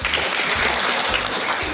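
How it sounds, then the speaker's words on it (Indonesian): An audience claps steadily at an Indonesian association gathering, a dense wash of applause filling the short moment with no voices on top. "tepuk tangan buat Buya kita."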